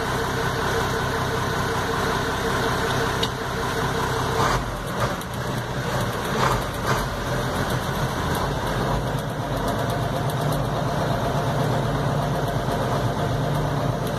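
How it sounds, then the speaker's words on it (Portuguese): A Ford Cargo 2425 truck with a dry gearbox idles close by in a steady, loud diesel rumble. A brief clunk of a gear engaging comes midway, and then the idle carries on. "A marcha entra sem arranhar"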